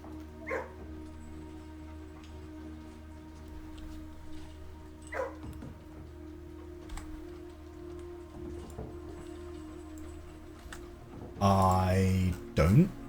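A dog in the video game Blue Prince gives a few short yips over a steady rain-like ambient bed, then a louder burst of rising and falling whimpering yelps near the end.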